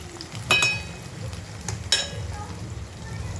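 Tomato, carrot and potato pieces frying in a pan for Maggi noodles give a soft, steady sizzle, broken by a couple of sharp clinks of a utensil against the pan.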